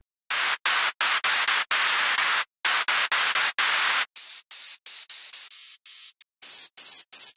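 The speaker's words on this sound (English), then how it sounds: "white noise is the easiest and cleanest way of adding a little more high end to your lead group" Bursts of bright white noise hiss from a Serum 2 synth preset switch on and off in short rhythmic chunks, then thin to a lighter, airier hiss with a faint tone near the end.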